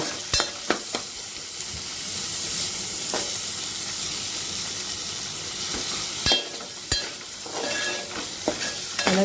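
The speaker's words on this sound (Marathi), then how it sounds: "आपण व्यवस्थित परतून घेऊया" Chopped onion and tomato sautéing in a pan for a dried Bombay duck curry: a constant loud frying hiss with a few sharp spatula scrapes and clicks against the metal, no speech.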